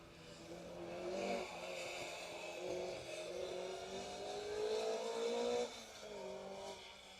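A Peugeot 205 1600 rally car on a gravel forest stage passes at speed, its engine rising in pitch and revving hard before easing, heard from a moderate distance without voices.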